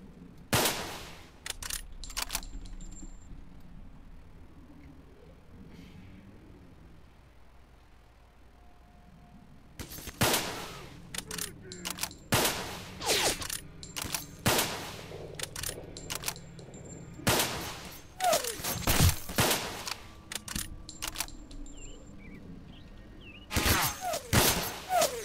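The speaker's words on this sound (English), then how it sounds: "Where are these shots coming from?" Gunshots in Stalker: Call of Pripyat with the Misery mod, a scatter of sharp cracks and short bursts at varying distances, some clustered in quick volleys, with a quiet gap early on before the firing resumes over low ambient rumble.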